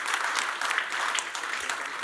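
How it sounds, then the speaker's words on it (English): Audience at a technical project review claps steadily, a dense patter of applause that holds at an even level for about two seconds. "let's give an applause for the Crimson project."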